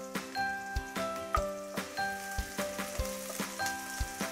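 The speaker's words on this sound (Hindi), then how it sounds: "ये हल्का सा इसको हम भून लेते हैं।" Garlic and ginger fry gently in a pan, making a soft, quiet sizzle. Ringing metallic taps from a spoon striking the pan come at a loose, regular rhythm.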